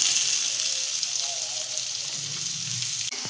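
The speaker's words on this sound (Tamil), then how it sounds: "கருவேப்பிலை சவத்ததும் கட் பண்ணி வச்ச வெங்காயம் போட்டு வதக்கணும்" Chopped onions sautéing in a pan after curry leaves for a netholi (anchovy) thoran, a steady close sizzle with faint stirring and a soft clink near the end, no voices.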